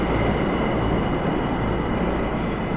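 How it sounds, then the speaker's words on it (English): A train pulls into a track 2 platform at a Japanese metro station on the way to Asakusa, a steady, loud rolling rumble of wheels and carriages filling the platform throughout. "May train na"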